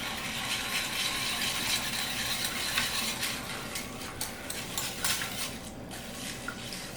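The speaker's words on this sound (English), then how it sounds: "We're going to stir this together. Got all that sugar and salt on the bottom." Pastrami marinade of sugar and salt being stirred in a pot, a steady scraping swirl with light metallic clinks against the bottom, close and continuous with no talking.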